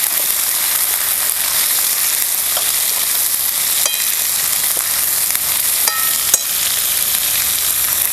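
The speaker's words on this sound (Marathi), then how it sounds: "दोडका टाकायचा दोन ते चांगलं हलवून घ्यायचं" Ridge gourd frying in a pan with roasted garlic and coriander, a loud steady sizzle close up, with a few faint clinks of the spoon stirring through it.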